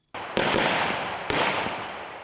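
Two sharp, loud gunshots of live rounds at an outdoor military shooting range, about a second apart, each followed by a long echoing rumble that fills the space.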